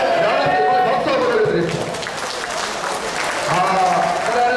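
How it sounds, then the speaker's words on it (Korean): Applause from a church congregation during a Korean worship service, a dense burst of clapping that holds steady for several seconds under a voice speaking over it. "하나님께 오늘 박수 한번"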